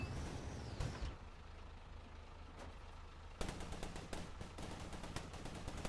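Heavy 50 cal machine gun in a multi-crew tank combat video game fires a rapid burst of sharp, loud shots at a mine, following a hiss and a lone crack, with a steady engine rumble beneath.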